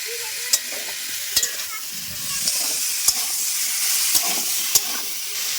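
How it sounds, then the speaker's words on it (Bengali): Vegetables sauté in mustard oil with a constant hiss and sizzle, punctuated by a few sharp clicks and scrapes of a spoon stirring against the pan. "সবজিগুলো ভালোভাবে এবার কষে নেবো একটু সরিষার তেল দিয়ে দিচ্ছি"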